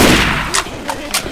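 Gunfire in the zombie shooter Left 4 Dead 2, three sharp loud shots spaced about evenly apart over a dense game-noise bed, with faint speech in the background.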